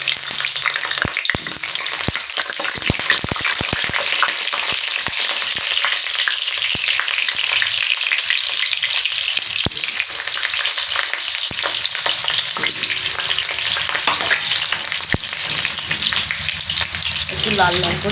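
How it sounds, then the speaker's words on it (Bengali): Potatoes fry steadily in hot oil, giving a dense, continuous sizzle close by with occasional sharp crackles and pops throughout, and no voices over it. "এই তেলে আমি আগে আলুটাকে ভেজে নেব।"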